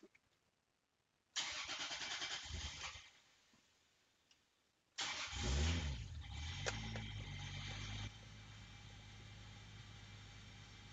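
A Toyota Supra engine running an AEM EMS V2 cranks briefly without firing, pauses, then cranks again, catches and settles into a steady idle. Close and loud at a garage, with no talking.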